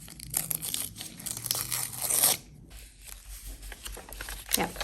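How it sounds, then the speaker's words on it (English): A corner is torn from a paper journal page, a short crisp rip and some crinkling of paper up close, with light handling noise and a voice speaking softly around it. "I think I'll just tear this corner off."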